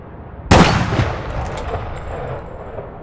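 A single loud gunshot cracks out in the online shooter game APB Reloaded, then rings away in a long fading tail, with faint metallic pings trailing after it and no talk.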